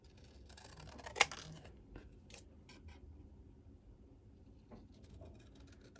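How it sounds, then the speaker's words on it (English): Scissors snip through paper while cutting out a hibiscus sentiment for a card, a few quiet close-up clicks and rustles with one sharper snip near the start, otherwise a hushed room. "we'll just cut that Hibiscus sentiment out"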